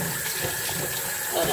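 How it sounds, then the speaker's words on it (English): Water from a kitchen tap runs steadily into a sink as a cooking pan is rinsed out, a close, constant rush with no talking. "I'm trying to wash out this pan"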